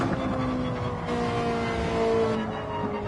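A race car in Gran Turismo 7 downshifts and then coasts, its engine note dropping and droning steadily at moderate volume with no voices over it.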